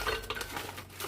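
Frozen strawberries tumble into a blender for a smoothie, a brief close clatter of hard, icy fruit knocking against the jar, with no voices.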